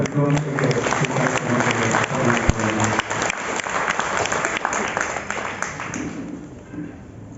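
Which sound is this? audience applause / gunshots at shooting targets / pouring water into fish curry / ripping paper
audience applause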